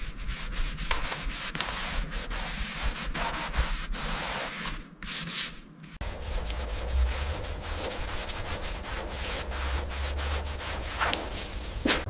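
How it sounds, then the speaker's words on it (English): Primer on a Bentley hood is sanded by hand with continuous, close scratchy rubbing strokes in a quick back-and-forth rhythm, broken by a brief pause and then resuming slightly rougher. "We sand until the surface is perfectly uniform and smooth to the touch."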